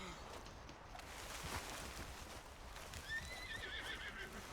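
A horse in Red Dead Redemption 2 whinnies in a rising, wavering neigh late on, over a steady bed of outdoor ambience with soft clip-clop hoofbeats along a mountain trail.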